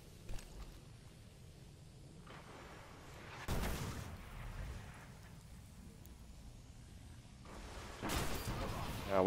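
Rocket launcher fire in the video game Destiny, a Trials of Osiris match: two heavy booming blasts a few seconds apart over a low rumbling game background.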